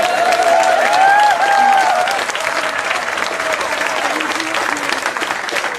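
Steady applause from a crowd at a public speech, loud and sustained, with some whistles and indistinct voices mixed in.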